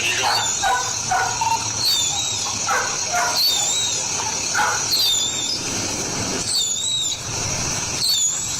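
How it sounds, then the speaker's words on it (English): Car windshield wipers screech repeatedly in a rhythmic series of high squeals, loud and close, with faint voices in the background. "what was that loud noise? It's just my windshield wipers"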